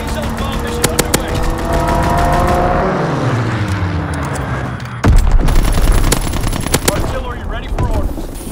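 Aircraft strafing gunfire in a World War II style strategy game, loud rapid bursts over engine roar with a sharp impact near the middle, layered with game noise and radio-style voice callouts.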